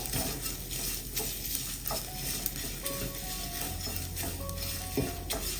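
Half a cup of flattened rice (aval) roasts in ghee on a low flame and is stirred in a pan, giving a steady soft sizzle broken by scraping and clinks of the spoon.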